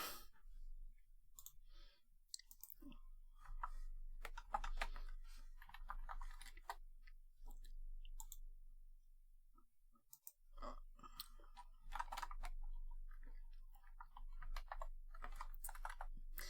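Computer keyboard typing in bursts of quiet clicking keystrokes, close, with pauses between runs and faint chewing-like sounds mixed in.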